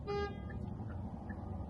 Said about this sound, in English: there's some dude who's beeping at me